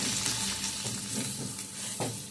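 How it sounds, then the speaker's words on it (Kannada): Spice masala with coriander powder, homemade chilli powder and turmeric sizzles steadily in hot oil, a close, continuous frying hiss broken by soft stirring scrapes. "ಈ ಮಸಾಲೆ ಸ್ವಲ್ಪ ಫ್ರೈ ಆಗಲಿ."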